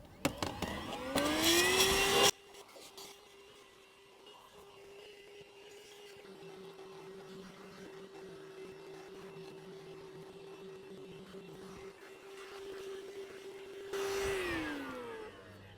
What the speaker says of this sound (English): I'm gonna continue to vacuum this car and then we'll see how much stuff it actually captured.